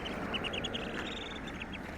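Rapid, repeated quacks from a duck and ducklings by a road in Karabük, several overlapping calls close by, with a busy outdoor hiss of background noise throughout.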